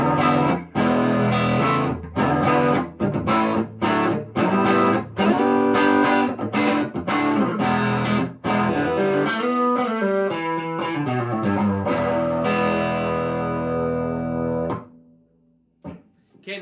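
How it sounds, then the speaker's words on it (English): A 2018 Gibson Les Paul on its neck pickup through an Orange amp plays a bluesy, slightly dirty tone, a loud run of picked notes and chords ringing out before stopping near the end. "This is kind of like a bluesy tone, so it's not entirely clean. I'm going to open everything up, and you can kind of hear it."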